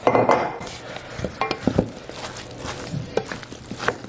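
Spoon clinks and scrapes against a dish while Italian sourdough sausage stuffing is mixed with broth, irregular knocks and soft squelches, close and fairly quiet.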